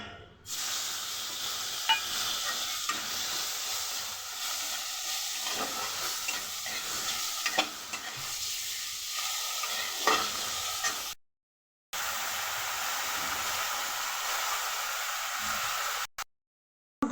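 Spice paste and prawns fry with bay leaf in a pan, giving a continuous hissing sizzle with occasional spoon scrapes and stirring. It is broken by two brief silent gaps, with no speech.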